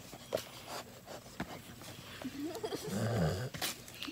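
A dog growls and grunts at close range in short, uneven bursts, with a longer rumbling growl near the end over quiet background noise.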